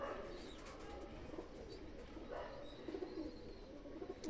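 Dark grey-eyed pigeons coo softly at night in a loft, with a Tonk female alongside; low, murmuring coos rise and fall over a faint background hiss.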